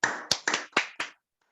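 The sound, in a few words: audience clapping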